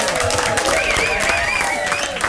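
Audience applause for a performer at a live Dutch show, a dense steady wash of clapping from a crowd with some voices mixed in, loud and sustained throughout.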